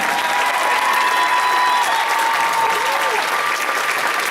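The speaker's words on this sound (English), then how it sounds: "Let's give a round of applause for our rookies," Sustained applause from a school concert audience for a middle school band, dense and even, filling the room for the whole stretch with a faint voice or two mixed in.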